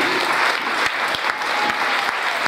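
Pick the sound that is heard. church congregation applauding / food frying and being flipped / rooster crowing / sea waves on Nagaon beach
church congregation applauding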